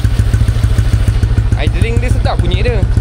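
X-1R motorcycle with a loud aftermarket exhaust idling close by, a deep rapid thumping pulse running steadily throughout while someone talks over it.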